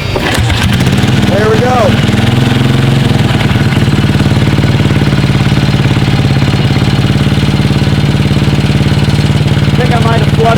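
A 1972 BSA B50SS British single-cylinder motorcycle fires up from a kick start and settles into a loud, steady, thumping idle close by, with a brief spoken remark over the engine.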